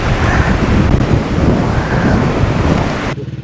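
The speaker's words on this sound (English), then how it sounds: "this kind of wind blowing like this" Strong wind at a hilltop viewpoint in Malico, Pangasinan buffets the microphone in loud, continuous gusting roars, cutting off abruptly near the end.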